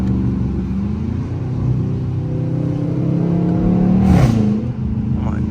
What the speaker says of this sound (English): Alright, I'm gonna let y'all hear this downshift real quick.